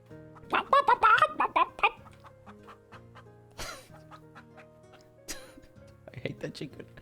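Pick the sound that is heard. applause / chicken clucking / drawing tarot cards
chicken clucking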